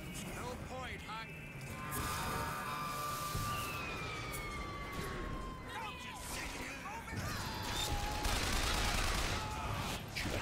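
Machine gun fire in Bioshock Infinite forms a dense, chaotic barrage of rapid shots, mixed with whining sweeps and crashes that grow louder toward the end.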